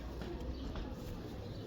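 Purebred Jaldar pigeons coo softly and continuously at a low, quiet level, with a few faint chirps over a steady background hum.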